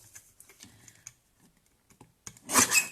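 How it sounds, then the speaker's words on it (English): A small mini paper trimmer slices cardstock for a Christmas card. Soft handling clicks and taps come first, then a short, loud swishing rasp as the blade runs across. "Let me get my little mini trimmer."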